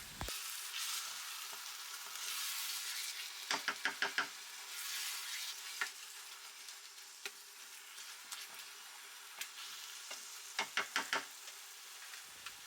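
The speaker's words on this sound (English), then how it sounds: "I'll go ahead to leave it to simmer a little bit" Ghanaian kontomere stew simmering in a pot, a steady soft bubbling sizzle with scattered clicks and brief bursts of sharper knocking, heard up close with no voices.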